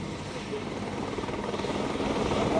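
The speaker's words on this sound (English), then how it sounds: "Choppers, or taxis as the guides like to call them, fly in to take those stricken with altitude sickness back down to safer ground." Helicopter flying near a high-altitude Himalayan trekking route on Manaslu, steady loud rotor thump and engine drone growing slightly louder over a few seconds.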